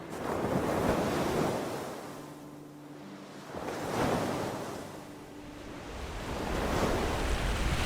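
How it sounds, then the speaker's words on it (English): Sea waves surge and break on a residential beach in Rayong, Thailand, rising and falling in slow swells of broad roaring wash, with wind buffeting the microphone and no voices. "have a look at the sea."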